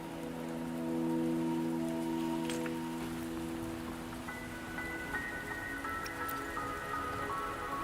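Steady rain in the video game Wuthering Waves, a continuous patter on surfaces and dripping that holds at an even level throughout, with faint tonal game music underneath and no talking.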